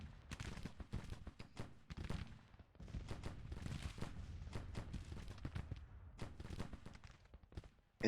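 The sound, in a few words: artillery firing in the video game Grand Tactician The Civil War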